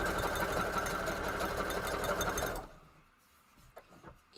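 A sewing machine stitches a junk journal cover while failing to catch the bottom stitches. It gives a loud, close, continuous whir for under three seconds, then stops, leaving faint handling sounds.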